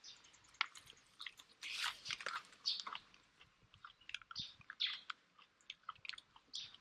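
Fresh home-grown choy sum is chewed up close, soft crunchy bites and wet mastication in irregular bursts, quiet overall, with faint bird chirps outdoors and no talking.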